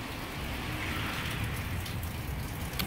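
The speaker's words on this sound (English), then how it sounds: "It's raining" Steady rain hisses down in a dense, continuous wash, with scattered drips and patters standing out near the end; no voices.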